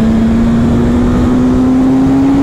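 Suzuki GSX-S 1000 World Edition motorcycle engine at full throttle in fourth gear, a loud, steady drone whose pitch climbs slowly and smoothly, heard close with wind rush and no talking.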